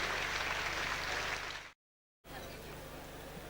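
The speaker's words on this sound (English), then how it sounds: "Nice round of applause as they leave the stage." Guests at a football club's 50th anniversary ball applauding as players leave the stage, a broad continuous wash of clapping that cuts out briefly for a moment of silence, then resumes slightly softer.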